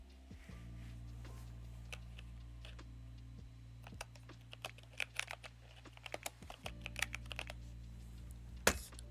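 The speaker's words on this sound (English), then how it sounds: "I got a new keyboard and it's very clickety clack, as you can hear." Rapid clicky keystrokes on a new mechanical-style computer keyboard, close and steady with sharper bursts toward the end over a low background hum.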